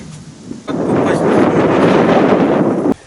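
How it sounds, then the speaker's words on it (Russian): Strong wind over a lake roars into the microphone in a loud, steady rush for a few seconds, then cuts off abruptly. "Ветер, конечно, могуч."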